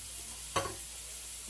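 A soft, continuous sizzle of sausage frying in a pan, with one brief clink or scrape near the start; no voices.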